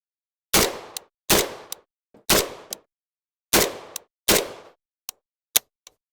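A shotgun fitted with a Fox Army micro red dot fires five loud, sharp blasts about a second apart, each with a short decaying tail, followed by a few smaller metallic clicks and clacks.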